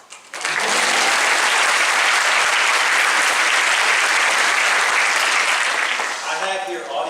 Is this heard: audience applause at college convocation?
yes